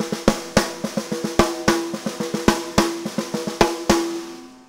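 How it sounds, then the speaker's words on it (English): A six-stroke roll played on a snare drum with right-left sticking and accented strokes, crisp hits repeating in a steady, even pattern up close with a ringing snare tone, no talking. "a nice little sticking pattern called the 6-stroke roll"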